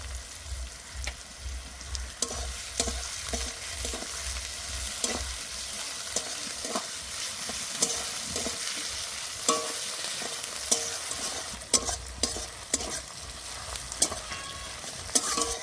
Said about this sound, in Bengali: কুচি করা টমেটো দিয়ে দেবো।